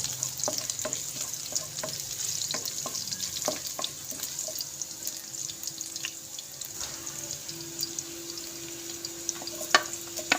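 Garlic fries in a pan for quail adobo with a steady close sizzle, punctuated by scattered sharp clinks of a spoon stirring against the pan.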